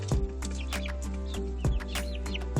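A farm rooster clucking in a coop, repeated short throaty clucks in an uneven rhythm, close and fairly loud over a low steady hum, with no talking.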